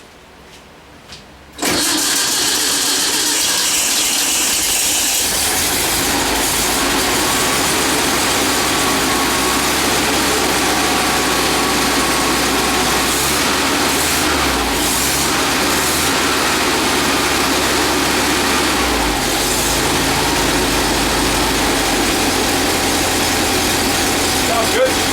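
A 1954 Volkswagen Beetle's air-cooled engine cranks and catches after a brief start, then settles into a loud, steady, slightly raspy idle that runs on without a break, with occasional faint voices nearby.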